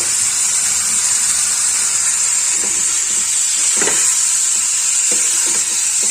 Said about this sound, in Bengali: আলুটার সঙ্গে ভালো করে মশলাটা মাখিয়ে নেব।